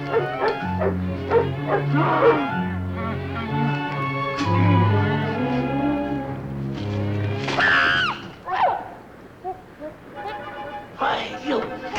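A dog barks and whimpers amid a tense exchange, its yips and cries rising briefly between and under the voices of people talking nearby.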